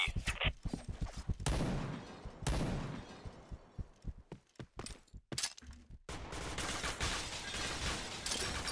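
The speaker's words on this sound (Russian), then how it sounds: "Блин, не слышу ничего из-за выстрелов" Bursts of rapid gunfire in the online shooter Point Blank, heavy automatic volleys and single cracks alternating with brief gaps, loud and close.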